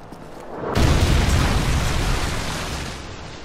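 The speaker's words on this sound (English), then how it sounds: "Friendly Predator missile inbound." A Predator missile strike in the video game Modern Warfare 3 detonates with a loud, deep booming blast that rolls on as a long rumbling roar before fading.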